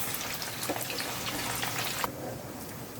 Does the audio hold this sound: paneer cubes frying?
yes